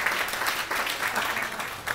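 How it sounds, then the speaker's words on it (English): Audience applause at a comedy club, a steady dense patter of clapping from a crowd that holds evenly for two seconds without speech. "give yourselves a round of applause one more time"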